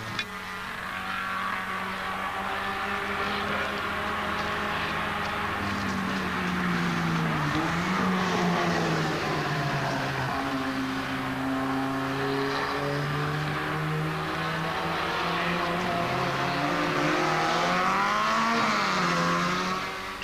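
1930s Mercedes and Alfa Romeo Grand Prix race cars passing with engines rising and falling in pitch, a continuous loud roar that swells and fades as they go by.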